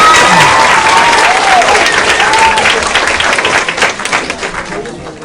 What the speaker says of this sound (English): Can I get another round of applause for Jacob Britton?